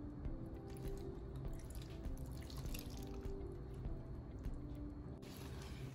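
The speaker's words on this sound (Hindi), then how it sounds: "सफ़ेद सिरका इसमें जाएगा तकरीबन" White vinegar poured into a shalgam (turnip) pickle mixture, a faint continuous trickling and splashing of liquid with small drips, quiet and close, without talk.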